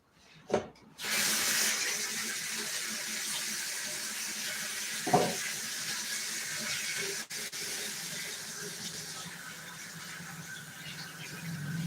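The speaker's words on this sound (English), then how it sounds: "you can wash your hands" Tap water runs steadily into a sink while hands are washed beneath it, a continuous hissing flow that starts after a brief knock and lasts throughout, fairly close.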